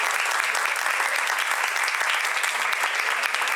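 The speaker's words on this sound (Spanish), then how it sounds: "Un fuerte aplauso" An audience at a talk on cultural heritage and guitars gives a strong round of applause, a full, even roar of clapping hands lasting the whole stretch.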